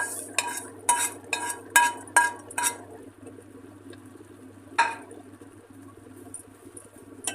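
Spoon clinks against a pot about seven times in quick succession while stirring flattened rice into moong dal milk payasam, then one more clink after a pause, with a soft background hum and no talk.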